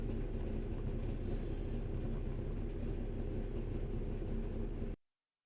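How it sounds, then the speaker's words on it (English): A car engine in the driving game My Winter Car rumbles loudly and steadily up close, then cuts off abruptly near the end. "you can't hear it for the fucking engine in my winter car."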